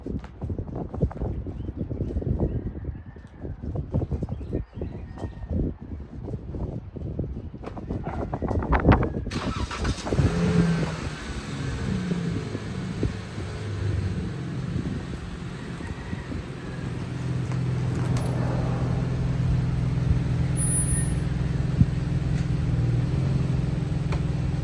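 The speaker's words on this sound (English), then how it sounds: "Real quickly, I'm going to move the car just a bit more forward." A 2014 Dodge Charger SE with a 3.6 V6 rolls forward. At first there is low rumbling and handling noise, then a steady, close engine hum carries on under light wind noise.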